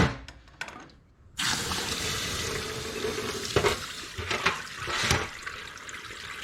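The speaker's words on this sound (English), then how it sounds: "Just going to put these in water so that they cool down" Hot cast metal pieces from a blowgun cone casting die plunge into water, giving a sudden loud sustained hiss and bubbling sizzle with a few sharper bursts.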